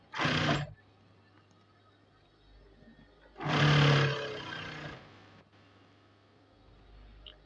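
A sewing machine stitches trousers in two loud runs, a short burst and then a longer steady whir, with quiet pauses between them.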